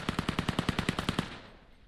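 Rapid burst of about a dozen evenly spaced AK rifle shots sprayed in the VAIL VR shooter during a 5v5 esports grand final, loud and close, ending in a short fading tail with no talk.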